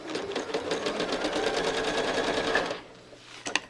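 A sewing machine running steadily while quilting stitches, a loud, even, rapid mechanical whir that stops abruptly near the end, followed by a couple of small clicks.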